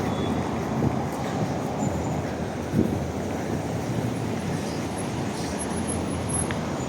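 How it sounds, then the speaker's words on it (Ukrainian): Steady, loud street traffic on busy Horodotska Street in Lviv: a constant roar of passing vehicles with a couple of brief louder bumps and no speech. "Городацька дуже шумна вулиця"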